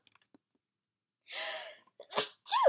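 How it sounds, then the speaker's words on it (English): A single close sneeze bursts out after a quiet pause, with a short breathy intake and a sharp explosive release at the end. "I might sneeze in a second"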